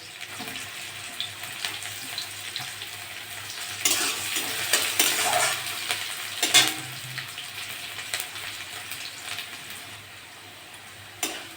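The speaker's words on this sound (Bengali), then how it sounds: "পাঁচ ছটা রসুন কুচি থেঁচো করে নিয়েছি ওটা দিয়ে দেবো" Chopped garlic and onion fry in a pan while being stirred. A low sizzle runs throughout, with louder bursts of scraping and spattering near the middle and what sounds like running water nearby.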